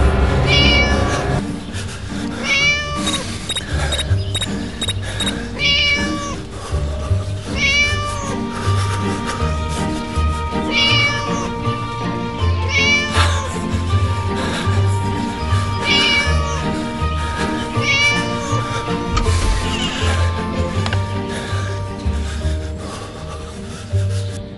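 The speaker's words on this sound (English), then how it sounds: "Naughty cat again." Repeated meows from a cat in the Scary Teacher 3D mobile game come every couple of seconds over a continuous rubbing, rasping background, the calls fairly loud and steady for nearly half a minute.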